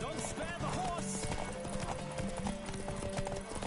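Hoofbeats pound in a quick, even rhythm as a horse gallops in The Witcher 3 on PS5, up close and steady beneath a soft music bed.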